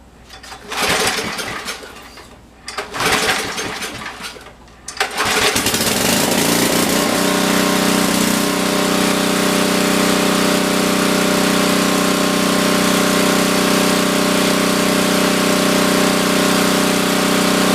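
A 10 HP Briggs & Stratton gasoline engine, just fitted with a replacement carburetor, sputters through a couple of short cranking attempts, then catches and runs at a steady loud drone, close up and alone.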